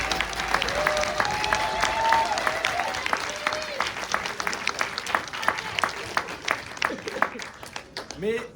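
Audience applause at a French-language school debate final, a dense steady spread of clapping that fills the room, with voices talking over it and the clapping thinning toward the end.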